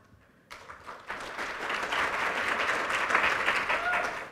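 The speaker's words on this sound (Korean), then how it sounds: "장채연 학생을 큰 박수로 맞이하겠습니다." An audience at a Korean youth speech contest final breaks into applause to welcome student speaker Jang Chae-yeon, starting after a brief quiet and swelling into steady, moderately distant clapping.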